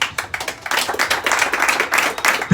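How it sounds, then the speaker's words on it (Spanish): A church congregation claps hands in praise to the Lord, a dense, loud run of overlapping claps continuing steadily for a few seconds with no voices over it. "Dele palmas al Señor."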